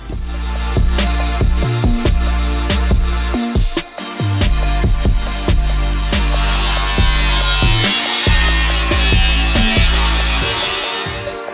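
A power tool cuts a hole for the shifter in a 1986 Ford F250 during a ZF5 transmission swap, a loud steady whirring whine with repeated rhythmic bursts and brief pauses throughout.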